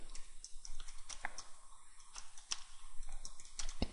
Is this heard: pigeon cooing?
no